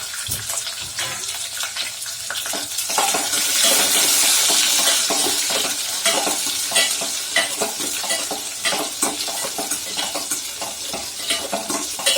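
Chopped small onions sizzle loudly in hot oil with curry leaves, a dense crackling hiss under frequent rhythmic stirring and scraping throughout.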